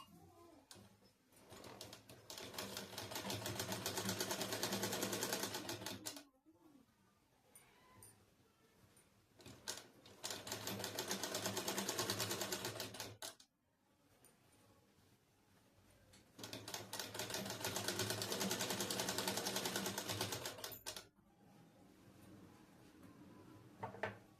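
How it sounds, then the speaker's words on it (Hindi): A sewing machine stitches a double-folded cloth strip in three long bursts of fast, even needle chatter, separated by short quiet pauses, close and fairly soft. "डबल फोल्ड करने के बाद इसमें हम लोग सिलाई लगा लेंगे।"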